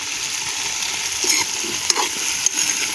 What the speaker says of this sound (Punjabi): ਇਹਨਾਂ ਨੂੰ ਵੀ ਆਪਾਂ ਦੋ ਤਿੰਨ ਮਿੰਟ ਪਿਆਜ਼ ਦੇ ਨਾਲ ਫਰਾਈ ਕਰਾਂਗੇ